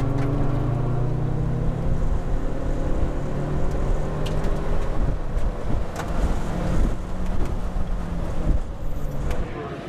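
Honda Prelude on wide Hankook Ventus RS4 tires launching from a standing start during an SCCA time trial track sprint, steady loud engine and road roar with rising tonal bands and wind buffeting throughout.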